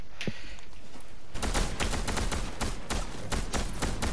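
Gunfire in the video game Fortnite: a faint distant shot, then a rapid string of loud sharp cracks in quick irregular succession from close range.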